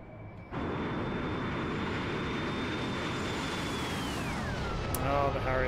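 A Harrier jet's engine whines steadily with a constant high tone in the DCS World flight simulator game. Near the end the whine sweeps downward, the rumble swells, and a voice talks over the engine.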